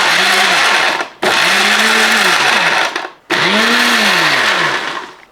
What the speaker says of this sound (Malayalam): ഞാനിങ്ങനെ ഈ ജാറിനകത്ത് വെച്ചതെന്നുള്ളൂ ഒന്ന് പൊടിച്ചെടുക്കാം